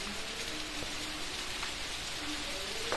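Heavy rain falls steadily in a village in Parbhani district, a dense even hiss of drops with occasional louder spatters on surfaces and no voices.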